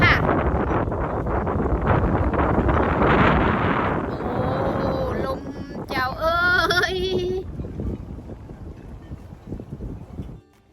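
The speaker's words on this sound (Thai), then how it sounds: "ลมแรง" Strong wind buffets an outdoor spot above a harbor crowded with boats on a hot summer day, a steady loud rumble throughout with brief tonal sounds partway through.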